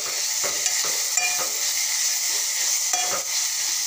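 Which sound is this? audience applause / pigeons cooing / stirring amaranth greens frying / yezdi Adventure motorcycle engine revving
stirring amaranth greens frying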